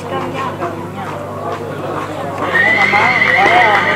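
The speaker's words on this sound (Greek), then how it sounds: "Κι αυτό είναι ένα καθαρό αίμο άλογο του στρατή του Γκαγκάρα" Purebred horse at a village festival horse beauty contest on Lesbos, neighing in a loud, shrill whinny in the second half, with hoof clip-clops and a constant crowd murmur underneath.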